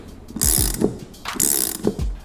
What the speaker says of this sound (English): we're going to remove the locking nut. To do so, we're going to use the crescent wrench along with an Allen